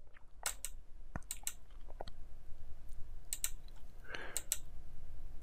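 Several sharp computer mouse clicks scattered across a few seconds, close and fairly quiet, clicked while working in Adobe Premiere Elements editing software, with a faint rustling hum between them.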